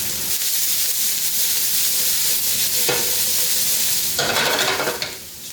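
A large sliced onion frying in a pot, a loud continuous sizzle with occasional stirring scrapes swelling up near the end.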